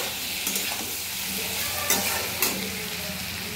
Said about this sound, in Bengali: এবার 2-3 মিনিট আমি কষিয়ে নেব ভালো করে